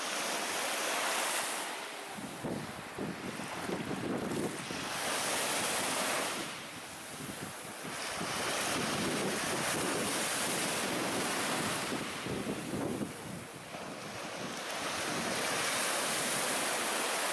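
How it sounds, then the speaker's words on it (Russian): Waves roll steadily onto the Lake Ladoga shore at Mantsinsaari island, with surges of surf and heavy wind buffeting the microphone throughout. "Сзади волна!"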